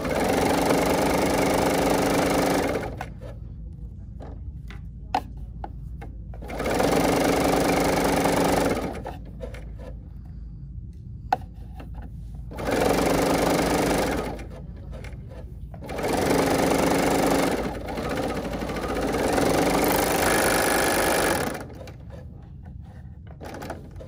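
A sewing machine stitches the seam of stretchy yoga pants in four loud bursts of rapid whirring, separated by quiet pauses with faint handling noises.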